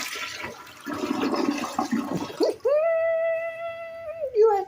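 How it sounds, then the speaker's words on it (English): A household toilet flushes with a rushing gurgle of water for a couple of seconds, then gives way to a sustained tonal whine as the tank refills, with a voice speaking over the flush. "You like watching the toilet flush"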